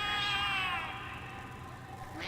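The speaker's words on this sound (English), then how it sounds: "The cats are alarming." A cat lets out a single long, drawn-out alarmed meow that slowly falls in pitch and fades, heard close and alone in a game scene.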